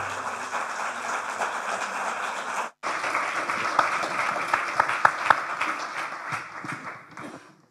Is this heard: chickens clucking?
no